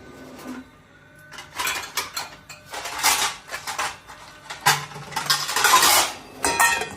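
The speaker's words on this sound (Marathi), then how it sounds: "आता कुकर झाकण ठेवायचं।" Metal clanks and scrapes of a pressure cooker lid being fitted and closed, several irregular knocks and clatters at close range.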